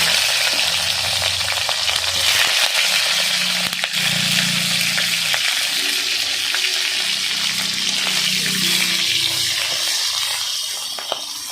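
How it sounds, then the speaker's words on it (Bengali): Fish heads frying in hot oil in a wok, a continuous close sizzle with stirring scrapes and bubbling that stays steady throughout, no talk. "মাছের মাথা দুটো ভেজে নেব ভালো করে"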